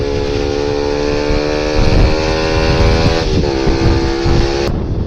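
A Bajaj NS 200 BS6 motorcycle fitted with an exhaust that has no DP killer drones steadily and loudly on a hill road at Mallappa Kunda, its pitch dipping briefly before the sound cuts off.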